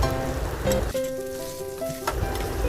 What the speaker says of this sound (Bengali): খুব ভালো করে ডালটা তেলের মধ্যে ভাজতে হবে